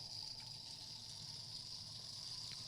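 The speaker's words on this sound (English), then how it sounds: "That's the aerator that we're using to pour the wine." Wine poured through an aerator, a steady close liquid rush and gurgle with airy hiss that runs unbroken throughout, no talking.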